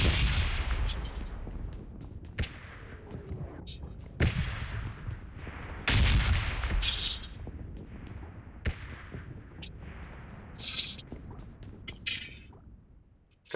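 A red zone artillery bombardment in an online battle royale game brings repeated heavy booms and blasts at irregular intervals over a continuous rumbling bed, with explosions landing both near and far.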